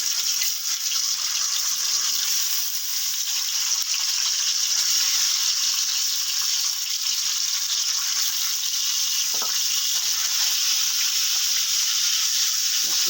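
Eggs fry in salted oil over a low flame for an egg and potato korma, with a steady, dense, close sizzle that stays even throughout and has one small pop partway through.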